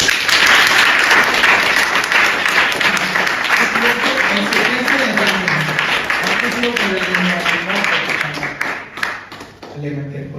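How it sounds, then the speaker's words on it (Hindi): Sustained applause from an audience at a motivational talk in Rajasthan, dense and steady for about ten seconds, with voices chattering and calling out underneath before it thins near the end. "वे ताली बजाओ बस"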